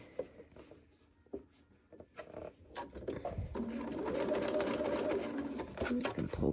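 A sewing machine stitches quilt fabric under the presser foot, starting after some light handling taps and a voice, then running as a steady, moderate mechanical whir for several seconds.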